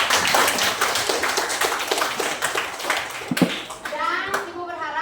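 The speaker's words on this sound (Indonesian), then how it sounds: "Tepuk tangan." Schoolchildren in a classroom clap their hands in a quick run of sharp, fairly loud claps, with children's voices mixed in and a teacher speaking near the end.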